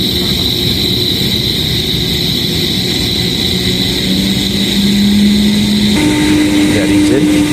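A fluid mechanics lab pump runs with a steady, loud broadband whir as its motor tone climbs and then steps up sharply while it speeds toward 3000 rpm.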